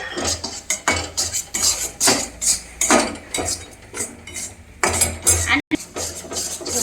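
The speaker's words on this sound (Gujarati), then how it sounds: "આપણે એને આવી રીતે સતત હલાવી અને શેકતા રહીશું" Urad flour roasting in ghee is stirred constantly in a pan, giving a close rhythmic scrape and clink of a spoon on metal in repeated strokes with no voices.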